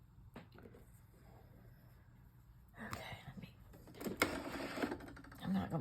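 A home sewing machine stitching a paper junk journal strip, short bursts of rapid mechanical clatter starting midway and growing louder, with someone talking throughout.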